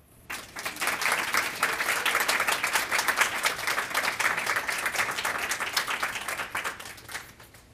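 Sustained applause from a conference audience after a talk, rising quickly from quiet, staying full and even for several seconds, then thinning out toward the end.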